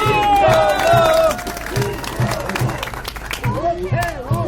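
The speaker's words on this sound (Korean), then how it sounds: "박수!" An audience at a legal briefing event applauds, with dense clapping and crowd noise that is loud and continuous, mixed with overlapping voices and hubbub.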